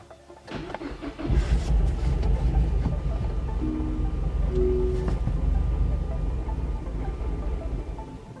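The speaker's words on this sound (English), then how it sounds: "We will now start the vehicle and allow it to run until it dies." A Gen 2 Mazdaspeed3 is cranked and starts with its fuel pump fuse pulled, then settles into a steady, rumbling idle that runs on close by without stalling.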